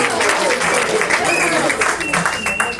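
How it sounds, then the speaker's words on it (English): An audience at a cultural center event applauding children, a dense burst of clapping from a crowd, with a voice speaking over it. "A big round of applause to kids."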